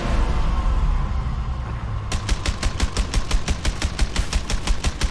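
Rapid bursts of gunfire in the video game A Way Out, a steady run of sharp, evenly spaced shots starting about two seconds in, loud and close over a low rumbling background.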